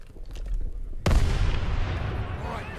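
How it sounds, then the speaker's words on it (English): A loud in-game explosion blows open the gates in Call of Duty: WWII, a sharp broadband boom about a second in that rolls into sustained roaring rumble over background battle ambience. "hold your fire till they blow the gates"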